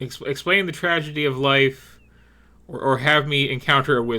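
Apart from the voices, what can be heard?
No everyday noises stand out.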